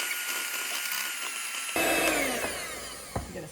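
A steady motorized whir mixes protein brownie batter with vanilla and salt, running close and continuous, its tone shifting abruptly midway as the beaters dig in.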